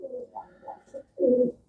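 Pigeons coo in a loft, several low soft rolling coos in a loose rhythm, with a fuller, louder coo near the end; close and clear, with no talk.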